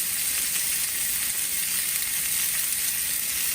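A salmon fillet sears in a hot pan, giving off a steady, loud sizzle and bright frying hiss that never lets up, with no voices.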